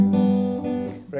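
Acoustic guitar plays a short sustained strummed chord from the chorus of a song, ringing clearly before shifting to a new chord at the end.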